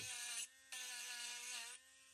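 A rechargeable 3.7V pen-style mini grinder engraves wood with a steady high-pitched whine that runs in two long bursts separated by short quieter gaps, close and constant in tone.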